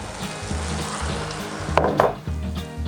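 Pre-cooked eggplant (talong) dropped into a pan with garlic for a spicy stir-fry, a steady close sizzle with a louder burst of crackling as the pieces land, plus light scraping and clinks of a utensil against the pan.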